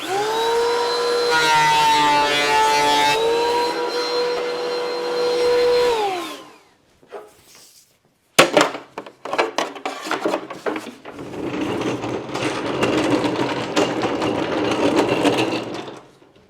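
Knotty wood boards fed through a planer: the motor whines steadily, cuts out briefly, then a loud, rough roar of cutting runs for several seconds, close by.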